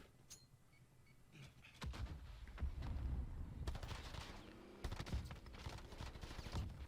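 Sniper gunfire in the Warzone battle royale video game, heard as sharp cracks and rapid bursts of shots with rumbling game ambience, fairly loud and dense across the whole stretch, with no talking.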